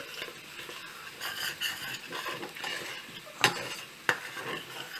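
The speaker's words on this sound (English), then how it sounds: "Milk is boiling. Continue boiling it and keep stirring it so that it doesn't touch at the bottom." A spoon stirs milk boiling in a pot for bottle gourd kheer, giving soft scraping and bubbling with two sharp clinks against the metal, fairly faint and close.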